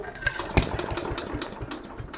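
A 69-year-old Briggs & Stratton 23A-FB small engine, fed brake cleaner instead of gasoline, fires in quick, uneven pulses close by for a couple of seconds.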